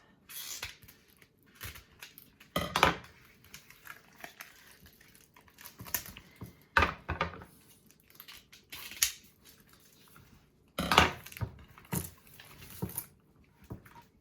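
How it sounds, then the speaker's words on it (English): Quiet snipping and rustling as plastic netting is cut off a raw turkey in short bursts, with crinkling and small handling noises close by. "I'm going to cut the netting off."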